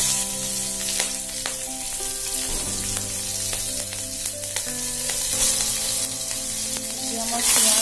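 Green chillies crackle and sizzle loudly in hot oil, already used for frying fish, with a dense, continuous spitting hiss and a steady hum beneath, close and unbroken throughout.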